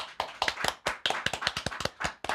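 Live studio audience applauding at a comedy podcast taping, a quick scattered burst of close, crisp hand claps of uneven rhythm, with no talking.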